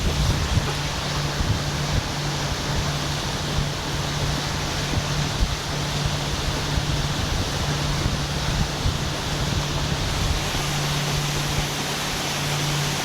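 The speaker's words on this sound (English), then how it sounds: "It's definitely windy." Strong wind blowing across a big stretch of open intracoastal water near Panama City, a loud, constant rushing roar buffeting the microphone for the whole stretch, with faint wave wash and a low boat hum beneath.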